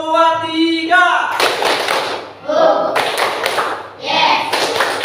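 Pupils in an Islamic primary school class perform the 'tepuk semangat' clapping chant. A teacher's voice leads, then bursts of group claps alternate with chanted voices in a rhythmic call-and-response pattern, loud and close.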